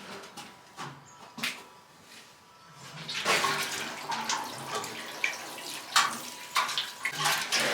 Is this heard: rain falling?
no